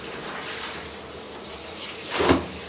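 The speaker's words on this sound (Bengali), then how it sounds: "কাপড় ধুই, কাপড় নিজের কাম নিজে করে খাই।" Water splashes and sloshes during hand washing of clothes, a steady soft wash of liquid that swells into a louder gush near the end, with no talking.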